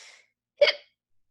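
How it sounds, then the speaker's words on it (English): A single sharp hiccup, close and clear, preceded by a faint breathy trace and followed by silence. "Excuse me, the hiccup."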